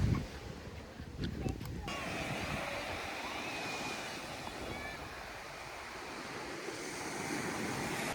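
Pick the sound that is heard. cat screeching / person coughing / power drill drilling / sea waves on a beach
sea waves on a beach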